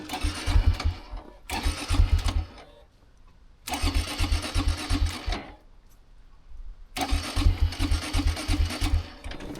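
A Honda Grom motorcycle engine, out on a snowy, wet afternoon, revs in four strong bursts. Each burst drops back between them to a lower, rougher idle, and the sound is close and loud.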